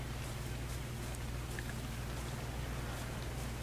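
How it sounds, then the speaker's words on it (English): Steady rainfall in the video game Ark, a dense continuous patter with a low droning hum underneath, even and unbroken throughout. "But it's raining."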